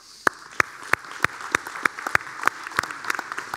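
Audience applause for speakers at an Orphan Sunday church gathering, a steady clapping crowd with sharp regular claps standing out over the wash, moderately loud and continuous without voices.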